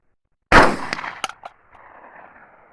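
A single close shotgun blast from a 20-gauge or 12-gauge, sharp and loud, followed by a quick echoing tail and faint reverberation.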